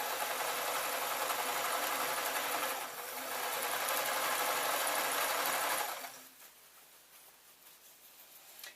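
A sewing machine stitching a scarf made from leftover yarn, running in a loud continuous whirring burr for about six seconds with a brief dip midway, then stopping abruptly into quiet.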